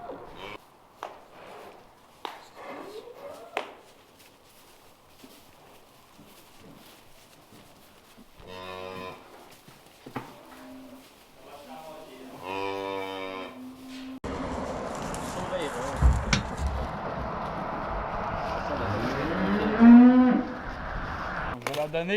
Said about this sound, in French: on va rentrer les dernières vaches, une vache puis un veau